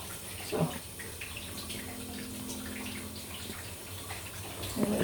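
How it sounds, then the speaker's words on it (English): Water runs from a tap into a bathtub, a steady soft rushing with a faint hum beneath it and a couple of brief knocks near the start and end. "so you put water into the bath"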